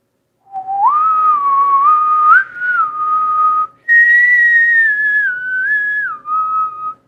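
A person whistles a theme, a clear, close melody of sustained, sliding notes in two long phrases separated by a brief breath, alone with no other sounds.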